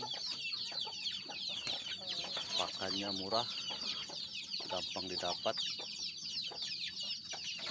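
Chickens cluck and call close by at feeding time, a Bangkok fowl among them, while a person talks over the steady birdsong; the feed is rice mixed with bran.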